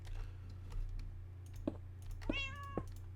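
Minecraft cats meow in game audio: a few short rising meow calls near the end, with faint clicking from a computer keyboard beneath a steady low hum.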